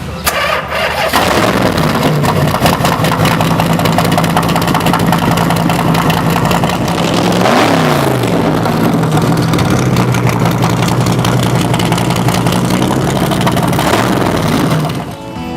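At a car show, a car engine cranks and catches, then settles into a steady, loud idle with a low rumbling hum that continues to the end.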